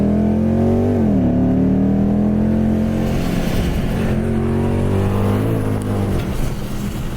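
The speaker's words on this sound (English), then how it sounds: "Definitely hear that supercharger. And this is the RR Racing Supercharger." Loud, close engine roar from a 725 hp Lexus IS F fitted with an RR Racing supercharger as it accelerates, heard from inside the car, rising in pitch through several gear shifts with a strong supercharger whine and no voices.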